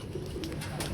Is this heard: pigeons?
yes